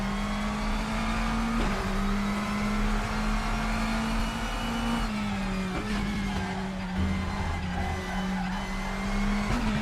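A race car skidding and sliding through a corner in the RaceRoom racing game, with a steady droning engine note and a sustained tire squeal, the engine pitch dipping and recovering as the car slides, loud and continuous.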